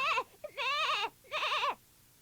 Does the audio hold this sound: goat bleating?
yes